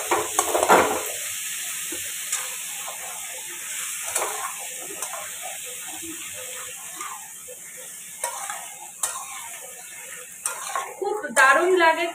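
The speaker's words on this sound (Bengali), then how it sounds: "একটু নুন আর হলুদ দিয়ে তেলের মধ্যে ভেজে নেবো ভালো করে।" Bottle gourd pieces frying in oil with salt and turmeric: a soft steady sizzle with intermittent stirring and scraping in the pan and a few louder clatters near the end, close by, with talk over it.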